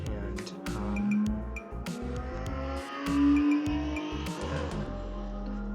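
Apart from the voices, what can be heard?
motorcycle passing by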